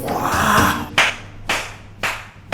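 Hands clap in a few sharp, evenly spaced claps about half a second apart, following a stretch of louder crowd-like noise, in an Indonesian television comedy series.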